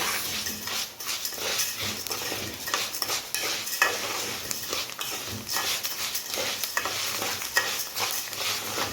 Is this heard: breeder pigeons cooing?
no